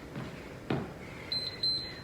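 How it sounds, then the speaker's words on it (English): An electronic interval-timer beep rings out in a short series of clear, high tones near the end, marking the close of a strength-interval exercise, with a faint thump before it and no talk. "When you hear that beep"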